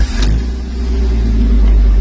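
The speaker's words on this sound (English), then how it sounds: "I'm going to go ahead and try and start the truck" A truck engine catches after a brief cranking burst and settles into a loud, low, steady rumble close by, with no talking.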